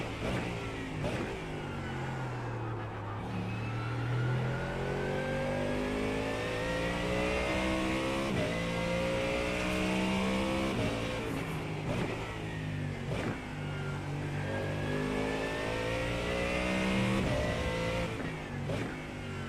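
A race car engine in a racing video game, revving and climbing through gears with repeated rising tones and brief drops at shifts, a steady, sustained mechanical drone throughout.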